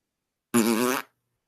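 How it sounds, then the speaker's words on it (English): A single fart, a short buzzy burst of about half a second, close and loud against silence. "The only thing he can do is farting."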